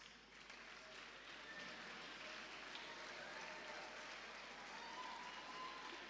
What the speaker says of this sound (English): A round of applause to welcome our next speaker